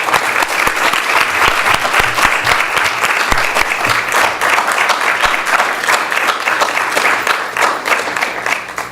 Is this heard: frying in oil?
no